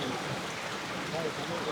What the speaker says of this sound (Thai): ฝนตกเลยอยู่